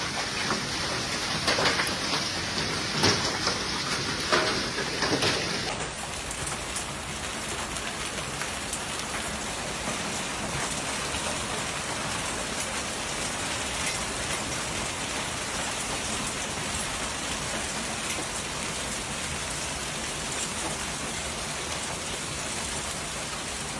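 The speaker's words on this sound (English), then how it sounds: "Streets turned white as layers of hail piled" Hail pelting down during supercell thunderstorms in Oklahoma City, a dense, continuous clatter of countless small impacts. It is a little busier and sharper in the first few seconds, then settles into an unbroken roar with no voices.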